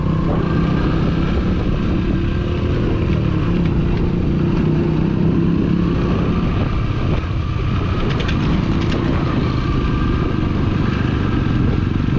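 Motorcycles ride into a parking area with a constant loud engine drone, close and steady throughout, the note wavering slightly as the riders work the throttle.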